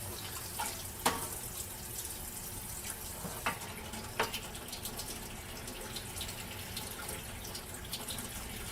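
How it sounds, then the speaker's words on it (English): Water runs steadily from the drain tube of a Vesta water ionizer, a continuous close splashing stream with a few sharper drips, and no talking. "So I'm going to get some water out of the Vesta drain tube."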